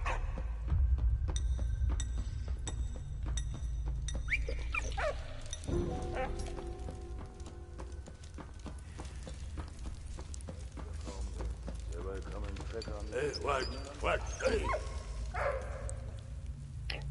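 Dog barking and yipping in the video game Valiant Hearts, a few barks over a steady game soundtrack and background effects.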